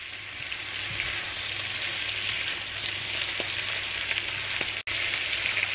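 Celery leaves and bean sprouts fry steadily in a pan for a tofu and vegetable dish, a continuous close sizzle with a few faint clicks and one brief cut near the end.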